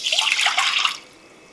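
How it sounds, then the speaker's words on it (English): Two cups of water poured into a wok set over high heat, a close, bright splashing rush lasting about a second before falling quiet. "We're gonna add in our 2 cups of water"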